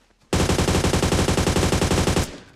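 PUBG Mobile automatic gunfire rattles in one loud, rapid, sustained burst of about two seconds, with shots striking a frying pan, then cuts off sharply.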